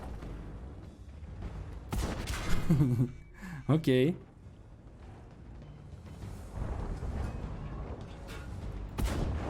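Booming tank cannon shots from a video game ring out amid rumbling battle noise, with a short laugh and a brief word from a player during the exchange of fire.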